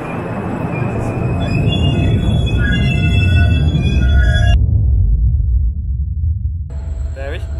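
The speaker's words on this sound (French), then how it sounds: "Première fois qu'on prend le métro depuis plus de 3 mois maintenant." A New York subway train rides along with a loud, continuous rumble of wheels on track, thin metallic squeals rising above it, and a brief electronic tone partway through.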